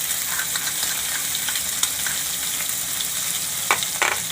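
Cumin, green garlic, ginger, asafoetida and chili pieces crackle in hot oil as a tempering for vaghareli khichdi, a steady close sizzle with a few brief sharper pops and spoon clicks near the end.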